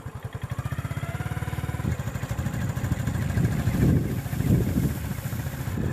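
A motorcycle engine idles close by with a rapid, even putter. It then revs and grows louder and rougher in two swelling surges as the bike pulls away, and no one speaks.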